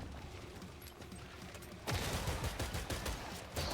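Rapid gunfire in the video game Killing Floor 3, a dense burst of shots that jumps in loudness about halfway through and stays loud and busy to the end, with no talking.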